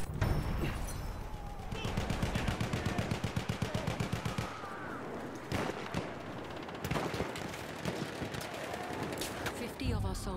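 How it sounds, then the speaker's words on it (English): Rapid machine gun fire in a video game battle, steady rhythmic bursts at close range that give way to scattered shots, with voices shouting over the din. "It's an enemy scout! Machine gun!"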